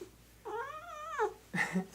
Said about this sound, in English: and that was my cat Bear.